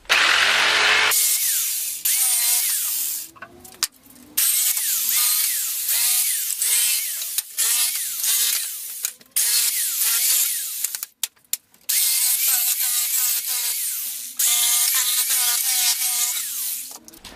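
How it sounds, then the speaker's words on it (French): A power tool cuts pallet wood into planks in long whining bursts with brief pauses between cuts, close and loud throughout. "je vais me servir de ces morceaux de bois là que je vais découper"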